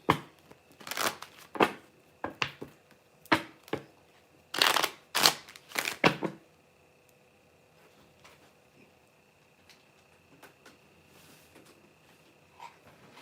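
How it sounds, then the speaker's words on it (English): A tarot card deck is shuffled in a series of sharp riffling bursts, several quick clustered ruffles close up over about six seconds, then the room falls to near quiet. "I shuffled out the deck"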